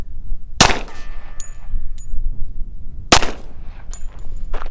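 Gunfire at a long-range outdoor range aimed at 2x4 targets: two sharp, loud shots about two and a half seconds apart, each followed by faint, high metallic pings ringing out from downrange.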